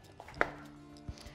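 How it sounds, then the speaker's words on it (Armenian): A knife on a cutting board dices bell peppers into small squares in a kitchen, giving two or three faint, sparse taps with quiet gaps between them. "որից հետո արդեն սկսում ենք կտրատել բիբարները։"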